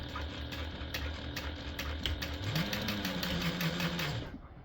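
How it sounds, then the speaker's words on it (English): Home sewing machine running a box stitch across strap webbing for a stadium bag, a close, steady mechanical whir with a quick ticking needle rhythm and a short pitch shift midway before stopping. "then we'll just sew a box in this end"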